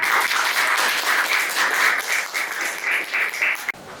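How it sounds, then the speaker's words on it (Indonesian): Applause from a classroom group fills the room as steady, dense clapping for about four seconds, then thins abruptly near the end. "Oke, silakan tepuk tangan."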